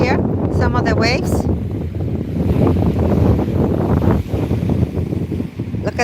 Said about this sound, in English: It's coming over here, some of the waves.